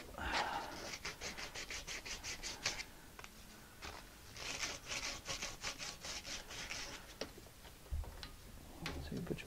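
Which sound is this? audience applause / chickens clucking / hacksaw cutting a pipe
hacksaw cutting a pipe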